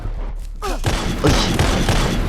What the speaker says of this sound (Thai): แต่ข้อดีคือมันเป็นลูกซองมันกระจายมันแรงนะฮะ